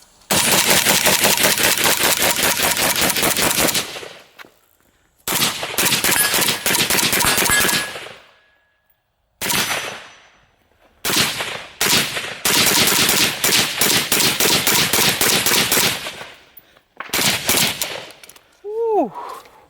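A Zastava M90 rifle rips through a full magazine in loud, close bursts of rapid automatic fire separated by short pauses, each string of shots sharp and echoing outdoors.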